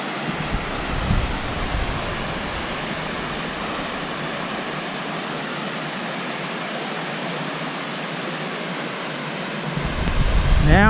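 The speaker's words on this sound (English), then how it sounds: "That's amazing, amazing waterfall." Waterfall in Bechler Canyon, Yellowstone, a loud, steady roar of rushing water that holds evenly throughout, with wind buffeting the microphone near the end.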